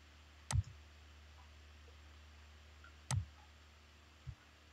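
Two sharp computer mouse clicks about two and a half seconds apart, with a fainter third tap near the end, close and crisp over a quiet room hum.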